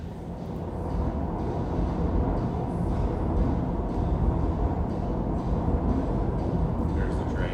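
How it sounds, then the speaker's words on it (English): A train goes past close by as a loud, steady rumble and rush that swells and then holds for several seconds, with a hint of wheel clatter. It carries no talk. "There's the train."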